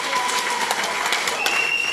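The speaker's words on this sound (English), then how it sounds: "Can we give us a round of applause to His Excellency for such?" Dense applause from a town hall meeting audience in Nasarawa State, steady and full for about two seconds with a faint tone running beneath.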